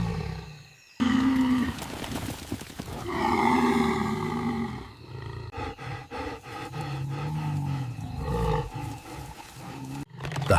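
Lions roar and snarl in loud bursts as a buffalo herd charges the pride in the Tanzanian wild, with deep, rough calls rising and breaking off repeatedly.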